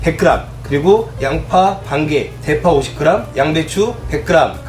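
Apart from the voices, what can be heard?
No everyday noises stand out.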